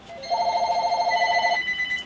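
A telephone rings with a steady electronic trill, one sustained ring about a second and a half long, moderately loud indoors and alone with no talk.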